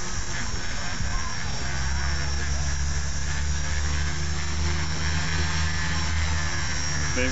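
A Blade mCPX RC helicopter in flight gives a steady, loud, high-pitched rotor and motor whine that continues without a break, close by.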